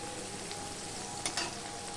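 Faint, low sizzle of okra shallow-frying in a pan with turmeric and salt, a soft crackle with a couple of brief sharper pops and no voices.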